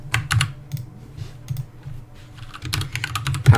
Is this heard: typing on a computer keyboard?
yes